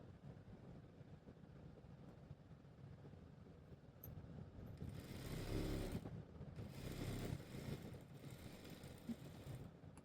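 A sewing machine runs in quiet, steady stitching bursts on a double-layer frock for a seven-year-old girl, the whirring swelling louder midway with no talk.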